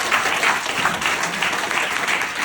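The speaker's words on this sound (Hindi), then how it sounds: "बजाओ ताली।" Audience applause at a motivational mindset meeting in Agra, brisk dense clapping from a crowd that holds steady for the whole stretch.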